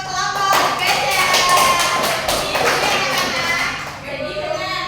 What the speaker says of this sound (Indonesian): Beri tepuk tangan untuk kelompok gajah.